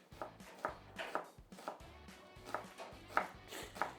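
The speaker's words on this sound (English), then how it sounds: "The chopping has to be very precise and nice because with kachumbari you don't need bigger chunks." A knife chops vegetables into small cubes for kachumbari on a board, producing quiet, fairly regular taps about twice per second, faint and close with no voices.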